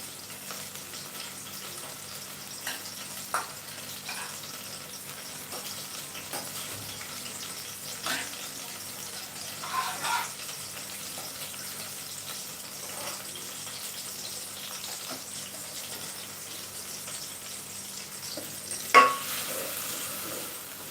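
Chinese cabbage stir-frying in a pan gives a quiet, steady sizzle with occasional soft stirring scrapes and light clinks over a low hum.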